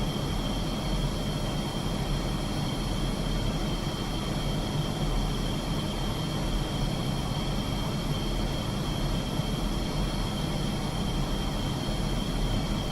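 A MiG-29S jet taxiing in the DCS flight simulator, with a steady, unbroken engine roar and whine holding at the same level throughout. No talking is heard.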